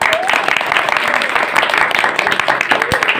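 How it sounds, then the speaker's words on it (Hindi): Audience members at a large community gathering in India applaud, a loud, dense burst of clapping sustained throughout, with crowd murmur mixed in. "ताली।"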